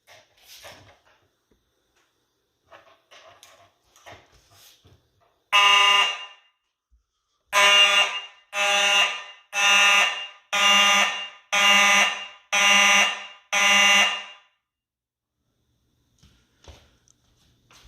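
A Simplex 4903-9215 electromechanical horn strobe, 30 candela, free-running, blares in seven loud, buzzy blasts of about a second each with short gaps, after a few seconds of faint clicks and shuffling.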